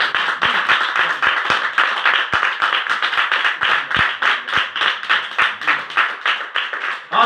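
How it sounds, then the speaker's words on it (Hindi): A church congregation claps loudly and steadily together, dense overlapping handclaps filling the hall with a few sharper standout claps, sustained without talk. "आज की इबादत के लिए और आप अपने लिए एक बार जोरदार तालियां बजाइए।"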